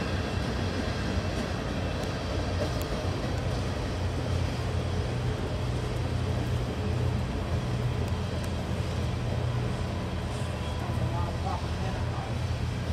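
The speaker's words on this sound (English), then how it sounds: "I nearly missed this train, but I still managed to get the locomotives." A CSX freight train hauled by locomotives rolls past, a steady, dense rumble of wheels and cars running at an even level throughout, fairly distant and unbroken, with faint background noise.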